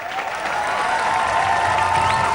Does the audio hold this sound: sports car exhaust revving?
no